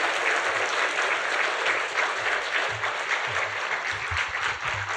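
Congregation applauding during a Sunday church service, warm, steady clapping from many hands that fills the whole stretch at an even level.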